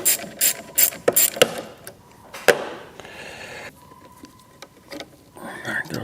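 A ratchet clicks in short bursts while removing a 10 mm fitting on a dual battery kit installation, with close, sharp metallic ticks separated by pauses and faint background sounds.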